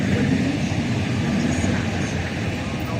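A train runs through the Rhine Gorge in Switzerland, heard from inside as a loud, steady rumble with broad rolling noise that stays constant and unbroken throughout.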